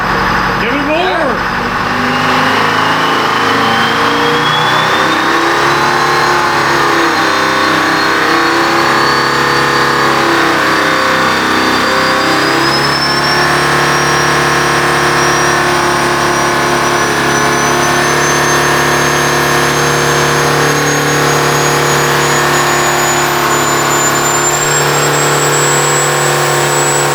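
An electronic Detroit Diesel 453 engine revs hard on a dyno, a loud, continuous roar with a steadily rising pitch that holds at high output throughout, while people shout over it.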